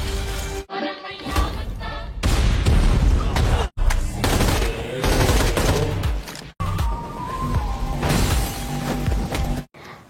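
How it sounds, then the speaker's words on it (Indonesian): Gunfire from a film shootout, dense loud volleys and impacts filling nearly the whole stretch with only brief breaks, layered with dramatic score. "tim Azad menyelamatkan Narmada dari tembakan"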